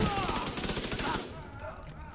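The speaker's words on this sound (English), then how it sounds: "These shotguns sure are something." Shotgun blasts in The Division 2 video game sound as a quick, close volley of rapid shots over about a second, then die away into quieter game ambience.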